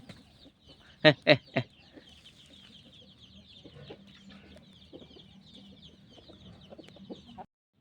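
A bantam rooster lets out three loud, quick clucks close by, followed by softer scattered clucking and faint background noise.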